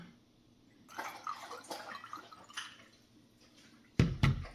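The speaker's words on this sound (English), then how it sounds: "Dog is slurping some water." Quiet room tone, then a stretch of soft, irregular lapping and slurping as a dog drinks water, ending with two louder wet slurps close by.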